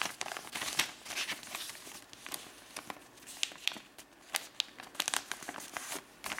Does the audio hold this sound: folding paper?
yes